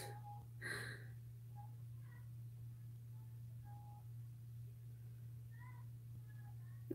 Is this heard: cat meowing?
yes